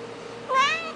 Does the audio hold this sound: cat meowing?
yes